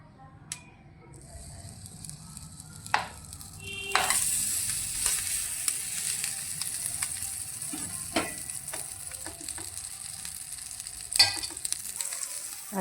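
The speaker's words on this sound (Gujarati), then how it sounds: "હવે એમાં આપણે બટર લગાવવાનું છે।" Homemade butter hits a preheated sandwich maker and breaks into a steady, close sizzle with sharp spatters and occasional scraping clicks as it is spread across the hot plate, with no talking.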